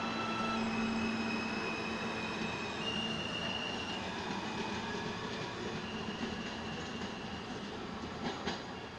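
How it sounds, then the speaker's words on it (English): A New York subway Q local train bound for Stillwell Avenue rumbles and clatters steadily along the rails into a station, with faint high squeals drifting in and out and no voices. "Stillwell Avenue bound Q local train"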